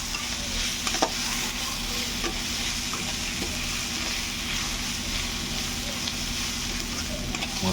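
Chicken with spices is stirred and fried in a pan for a Bengali-style dish, a steady soft sizzle with occasional scraping taps of a spoon, fairly quiet and unbroken by talk.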